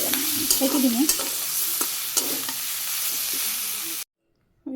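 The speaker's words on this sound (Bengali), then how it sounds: "চিংড়ি রান্না করে নিলাম সুন্দর করে ভাজি করে নিচ্ছি এই গেছে নামানোর আগে আমি একটু রসুন দিয়ে দিই নেড়ে চেড়ে" Prawns and garlic sizzle loudly in a pan, stirred with a spatula that scrapes and knocks against the metal in a few sharp strokes over a constant frying hiss, before a brief cut to silence near the end.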